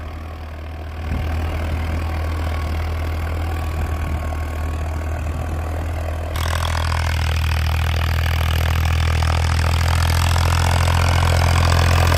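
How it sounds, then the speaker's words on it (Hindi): A Farmtrac 60 tractor with a 55 HP engine runs steadily while tilling a field. Its loud, low chug grows noticeably heavier partway through. "चाल देखो ट्रैक्टर की भाई, 55 HP का ट्रैक्टर है।"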